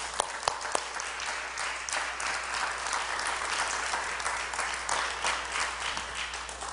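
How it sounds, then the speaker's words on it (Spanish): A church congregation claps together in sustained, fairly close applause that fills the room, with a few sharper individual claps standing out near the start. "Si tú lo crees, aplaude. Aplaudamos al Señor."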